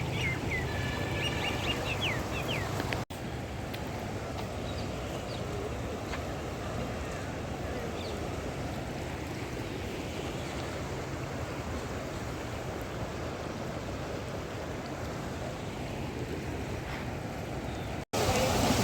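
The Ganga river at a Haridwar ghat, flowing strongly with waves, makes a steady broadband rush of moving water, moderately near and unbroken, with faint bird calls at the start.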